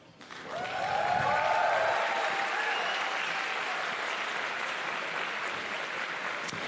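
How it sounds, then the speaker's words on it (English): An audience at a fencing event breaks into sustained applause with some cheering, a steady wash of clapping that swells quickly and holds at an even level throughout. "As you hear from the audience cheering, we are very happy."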